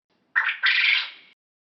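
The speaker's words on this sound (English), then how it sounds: "Quail." A quail gives a single harsh, raspy two-part call on a farm, the first burst short and the second longer, heard close and alone.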